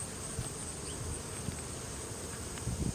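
Honey bees buzz at an open hive during a fall inspection, a steady, fairly quiet insect drone throughout with a few soft handling bumps.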